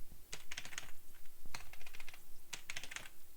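Fingers type on a computer keyboard in short irregular bursts of quick clicks, close and fairly quiet, with brief pauses between the bursts.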